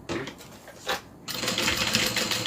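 A home sewing machine stitching down a seam on a Tiffany Dome satchel, a short whirring run, a brief pause, then a longer steady buzz of stitching nearby, with no talk.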